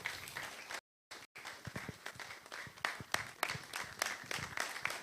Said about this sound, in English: A round of applause for your chairman.